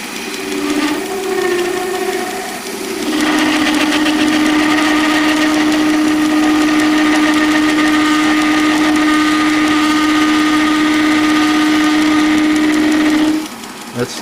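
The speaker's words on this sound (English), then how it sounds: "That's still vibrating because I'm taking a really big bite there." A machine vibrates while cutting a brass contrate wheel for a carriage clock, taking a big bite; a loud steady whining hum with a strong chattering drone runs for about ten seconds before stopping abruptly.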